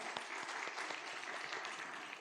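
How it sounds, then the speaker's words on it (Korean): A church congregation at an afternoon praise service gives a hearty round of applause, steady massed clapping heard from a distance. "우리 다시 한번 큰 박수로 격려하겠습니다."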